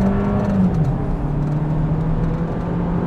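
A 2022 Seat Ibiza FR 1.5 TSI engine pulls hard at full throttle with a steady, loud interior drone, its tone dipping briefly at a gear change and then climbing again.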